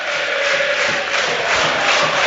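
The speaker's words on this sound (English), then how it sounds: "The crowd in good voice." A football crowd at an Arsenal v Watford match sings and cheers in a steady, roaring wash of voices that fills the stadium, with no commentary over it.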